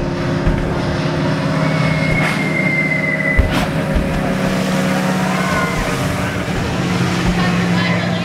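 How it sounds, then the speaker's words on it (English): A loud, steady drone of bomber aircraft engines fills the whole stretch, a dense rumbling roar with no break, as if planes are passing close overhead. "Just then you hear more planes approaching."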